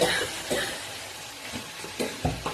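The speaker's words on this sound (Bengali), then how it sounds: "পেঁয়াজ কলি কড়াই দিয়েছি" Onion stalks frying in a wok give a soft, steady sizzle, broken by several short clattering stirs of a spatula against the pan at irregular intervals, close and fairly quiet.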